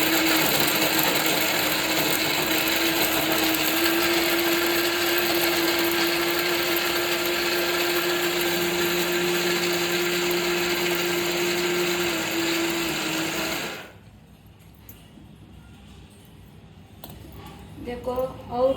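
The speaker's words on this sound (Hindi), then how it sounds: "तो अब मैं मिक्सी में पीस लूँगी इसको।" A kitchen mixer grinder whirs loudly and steadily for about fourteen seconds, grinding ingredients for modak, then cuts off, leaving quiet room noise with a few small clicks at the end.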